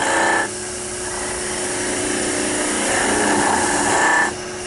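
A wood lathe spins a turned wooden mushroom, giving a steady whirring hum with a broadband hiss of the tool cutting that rises and swells toward the end before cutting off, fairly loud and alone.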